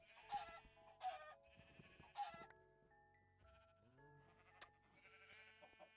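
Sheep in the Minecraft video game bleat three times in quick succession, fairly faint, followed by quieter game blips and effects.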